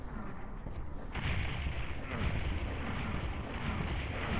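Rocket launcher fire and explosions in the PlayStation game Final Doom: a dense, continuous roar of booming blasts with a harder burst near the start, loud throughout.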